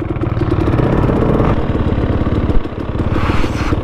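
A 2018 Husqvarna TX300 dirt bike engine runs steadily on a cold, icy trail, with a close, continuous throaty chug and a brief bump late on. No one speaks.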